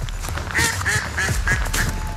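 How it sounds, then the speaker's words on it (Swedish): Ducks beside a stream quack in a steady run of about five or six nasal calls at moderate distance, over a continuous rush of flowing water, with no talking. "Här har vi lite snälla fåglar."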